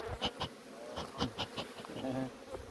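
Honey bees buzz around a beehive, close and fairly faint, with irregular drone pulses rising and fading as individual bees pass by.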